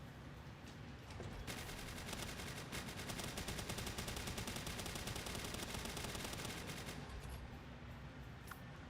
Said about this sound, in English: He's going to try to shoot at me.